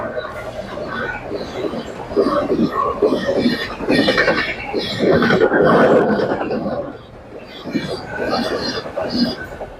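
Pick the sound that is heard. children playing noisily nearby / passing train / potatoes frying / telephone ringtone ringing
passing train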